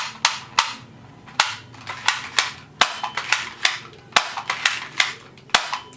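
Toy guns firing, a series of sharp snapping cap-gun shots, some single and some in quick clusters of two or three, loud and close with no talk over them.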